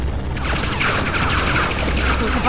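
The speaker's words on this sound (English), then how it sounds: "I can run through the gunfire." A continuous rattling barrage of gunfire fills a scene in the Tales from the Borderlands game, loud and sustained throughout with no clear talking.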